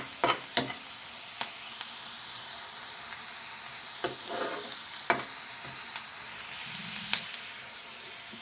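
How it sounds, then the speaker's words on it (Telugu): Onions fry in a pan with a constant soft sizzle, punctuated by sharp clicks and scrapes of a spoon against the pan at irregular intervals, close and moderately quiet. "ఉల్లిపాయలు వేగాయి"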